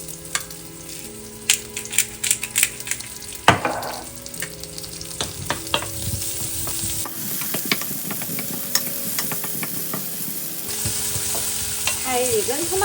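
Cherry tomatoes frying in olive oil with pepper in a pan, a steady close sizzle with intermittent stirring and scraping clatter, no talking.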